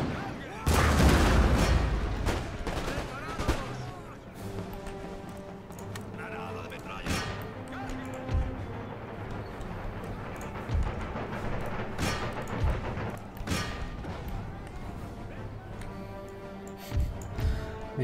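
Musket volleys ring out in Empire Total War, a ragged fusillade of cracks and pops across the battlefield at varying distances, with a heavy boom early on, under a steady bed of battle noise and game music.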